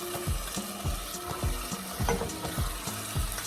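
Chicken frying in a pan with softened tomatoes, a steady loud sizzle broken by repeated rhythmic scraping and stirring strokes, close up, with no talking.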